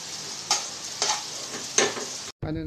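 Spice ingredients and tomato for buko soup sauté in a pan, giving a steady close sizzle broken by a few scraping stir strokes before it cuts off abruptly.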